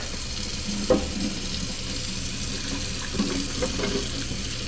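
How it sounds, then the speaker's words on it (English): Hot water being poured out of a cooking pot into a kitchen sink after boiling eggs, a steady low watery rush with a few brief splashes and clunks, fairly quiet and continuous with no talking. "Pour out this hot water."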